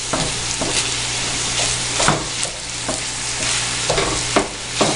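Sausage sizzles steadily in butter spread in a pan, with repeated scraping knocks as it is broken up and stirred, close and continuous.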